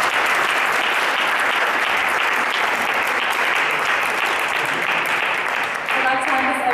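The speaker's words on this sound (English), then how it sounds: "I think we'll start with an applause." An audience at a talk applauds warmly after a thank-you, a sustained burst of many hands that thins slightly near the end as a voice begins underneath.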